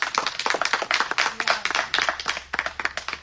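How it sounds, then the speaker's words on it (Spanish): An audience claps in a dense burst of applause for performers at a Maya cultural festival, the sharp hand claps quick and steady, close and fairly loud throughout with no voices. "recibamos con un fuerte aplauso a Christian y a Balam Ich"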